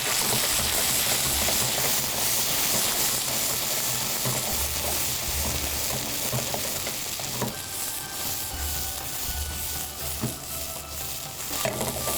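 Green chili and beetroot sizzle loudly in a hot pan, the crackling fry running steadily while a utensil stirs and scrapes through them with occasional clinks.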